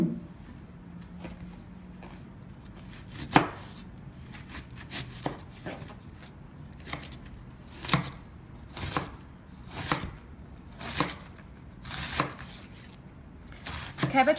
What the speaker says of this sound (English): you will just continue chopping. This is the only tedious part. Lots of chopping.